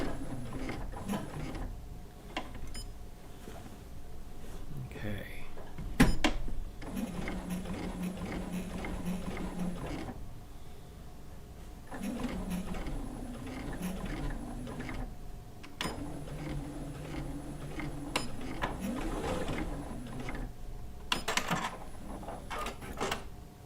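An Allegro sewing machine stitches quilt panels, its mechanism whirring and clattering in steady runs, pausing and starting again several times, moderately close with no talking.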